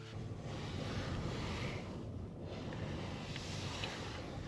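Strong wind roars steadily into the microphone beside a mini camper van in snowy weather, buffeting it throughout, with a constant low rumble and faint surf-like wash behind.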